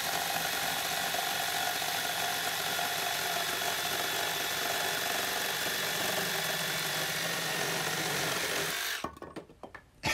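Milwaukee M18 Fuel Sawzall 2821-20 reciprocating saw with a long blade cutting through a 5x5 cedar fence post, a steady loud buzzing rasp running continuously before cutting out abruptly near the end.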